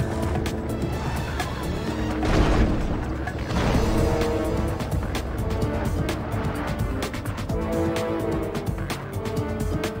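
A weapons vehicle approaching in Spy Hunter 2 on PS2: a loud, continuous roaring engine with whooshing surges and clanking game effects that keep going without a break.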